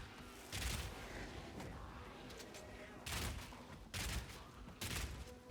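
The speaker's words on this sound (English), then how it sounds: "We've got a machine gun. This is crazy. We've got a Tommy rifle." A Tommy rifle machine gun in Path of Exile 2 fires in short loud bursts, four separate volleys with gaps between them over a steady game background, with a voice faintly underneath.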